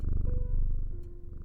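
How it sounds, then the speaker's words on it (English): Cat purring steadily and close as it is petted in the video game Strange Antiquities, a soft continuous rumble with no talk over it. "I was gonna try to pet the kitty cat."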